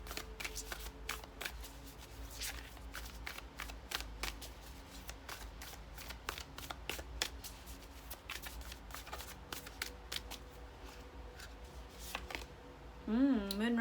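A deck of moon oracle cards is shuffled repeatedly, a dense run of crisp riffling snaps and flicks close by, with a voice breaking in at the very end.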